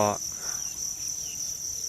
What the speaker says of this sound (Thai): รายรอบก็จะมีเสียง จิ้งหรีด นะครับ เสียง จิ้งหรีด เสียง แมลง